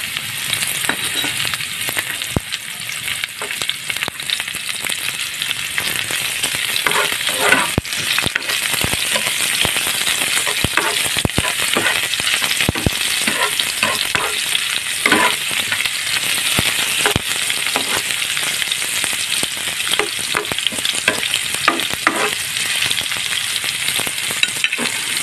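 Onions frying in a pan: a loud, continuous sizzle with scattered sharp crackles and pops that runs steadily throughout, with no one talking.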